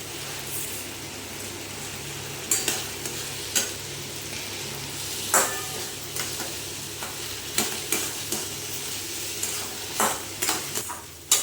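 A spoon scrapes and stirs semolina frying in a pan for halwa, with a soft sizzle underneath, irregular knocks of utensil against metal over about ten seconds.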